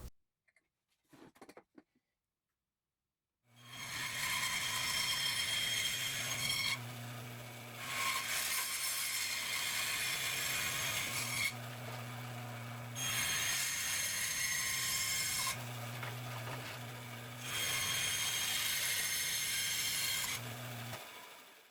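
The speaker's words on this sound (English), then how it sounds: "go cut on a bandsaw or jigsaw" Power saw, a bandsaw or jigsaw, cutting a 2x4 for a seat back cutout, a loud sustained whine in several long passes with brief quieter gaps where the motor keeps running.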